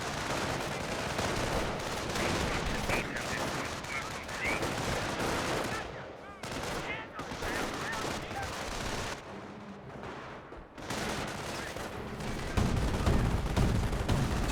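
MG42 machine gun fire in Company of Heroes, a continuous loud stream of rapid bursts mixed with other gunfire and battle noise, with brief lulls and a commentator's voice over it.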